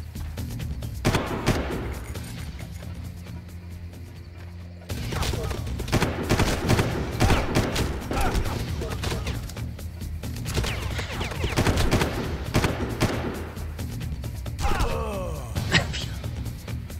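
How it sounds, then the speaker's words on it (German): Repeated bursts of gunfire crack through a Far Cry 1 firefight, with rapid volleys and scattered single shots mixed with game sounds and brief vocal noises across the stretch. "Und die treffen durch Häuser, die schießen durch Häuser durch."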